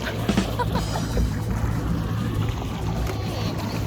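A boat out on the sea, heard as a continuous rumble of engine and water noise with splashing and rushing wash, fairly loud and steady throughout, with no clear speech.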